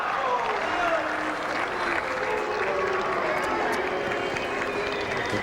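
Tennis crowd at a Toronto 2004 match between Melzer and Agassi booing, a dense sustained roar of many voices throughout, fairly loud, with a faint rising and falling whistle-like tone inside it.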